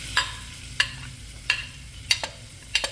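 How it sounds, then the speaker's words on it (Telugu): Small pieces of beetroot fry in a hot pan with a soft steady sizzle, broken by five sharp scraping clinks of a spatula stirring at roughly even intervals. "ఇవి కొద్దిగా వేసుకొని వేగనివ్వాలి."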